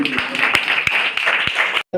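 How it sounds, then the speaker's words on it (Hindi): Applause at a school or institute's 2 October national festival celebration for a former student's mother, brief and fairly close clapping that runs steadily for just under two seconds, then cuts off abruptly. "जोरदार तालियां।"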